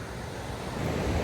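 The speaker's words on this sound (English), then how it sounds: "do you see these waves? It has signs out here not to get close to the water" Strong ocean waves and surf pound the Big Sur coast in overcast weather, a dense continuous roar of breaking water with wind rush building slightly louder toward the end; no voices.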